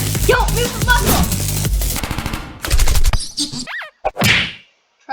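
Gunfire from the Henry Stickmin video game, rapid bursts of shots with whacks and whooshes packed into the first three seconds, then sparse game effects over a busy soundtrack.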